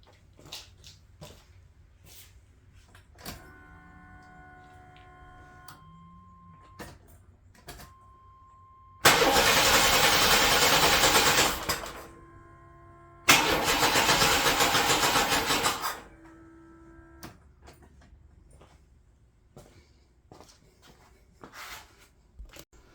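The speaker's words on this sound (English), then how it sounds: "I had some issues when cranking it, as you could see in the video" Engine cranking on a 1993 S10 Blazer after an engine install, heard as two loud broadband bursts of a few seconds each, separated by a pause, amid quieter shop noises and tonal beeps, with no speech.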